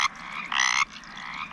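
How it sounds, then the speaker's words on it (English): A mountain chorus frog call plays from a field guide app beside a West Virginia pond, a short series of rising raspy trills, the loudest burst in the middle, heard outdoors with no talking. "mountain chorus frog."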